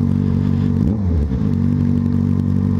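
A Yamaha XJ6 motorcycle arrives on a street in Braga, Portugal, its loud steady engine drone dipping briefly as it shifts near the middle before settling back into an even, close rumble.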